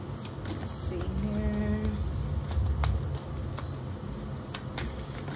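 Cards are riffled and shuffled close by in a steady, papery flutter, with a low rumble in the background.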